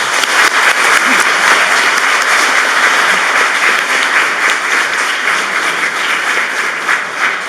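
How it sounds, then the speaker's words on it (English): Sustained audience applause fills a hall at an address to the Indian diaspora in Estonia, steady dense clapping throughout as a speaker is welcomed. "Please join me in welcoming him with a round of applause."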